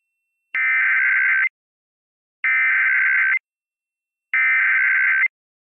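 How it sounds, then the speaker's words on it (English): Emergency Alert System attention tones sound as three identical loud, harsh buzzing bursts of about one second each, evenly spaced with silence between them. "Straight to the emergency alert."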